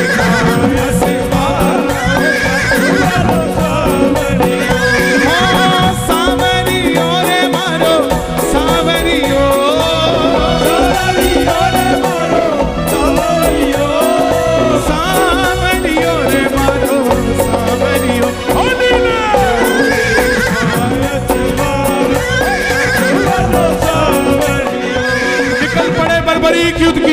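Horse neighing and clip-clopping hooves used as a sound effect inside a loud devotional bhajan, repeated whinnies riding over dense continuous music for the whole stretch.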